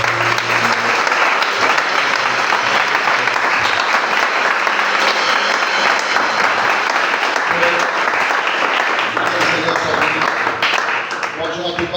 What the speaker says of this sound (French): Au nom puissant de Jésus, nous acclamons le Seigneur.